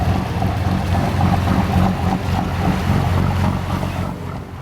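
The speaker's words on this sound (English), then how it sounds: "there goes the Nessie Hunter with a big, powerful engine" The big, powerful engine of the Nessie Hunter boat on Loch Ness drones loudly and steadily, mixed with wind buffeting the microphone and water rushing past.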